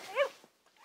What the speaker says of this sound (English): Can I give Mossy a doggy treat?